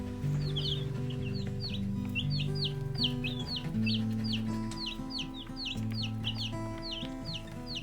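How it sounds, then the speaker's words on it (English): Baby chicks peep continuously in high, chirpy calls that overlap and repeat close by, over a low, steady background drone. "nothing like little baby chicks."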